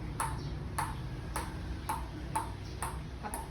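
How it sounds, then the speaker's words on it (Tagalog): A table tennis ball bounces in a steady rhythm, about seven bright, sharp pings spaced roughly half a second apart over a constant low background hum. "Kahit pa-bounce ko yung bola"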